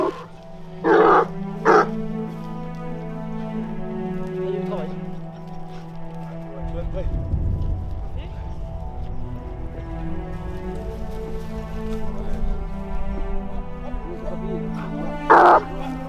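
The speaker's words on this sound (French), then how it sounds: "Et les chiens rentrent là, ils commencent à donner" Hunting dogs baying during a wild boar hunt in Brittany, a few loud barks and yelps near the start and end, with other sounds in between.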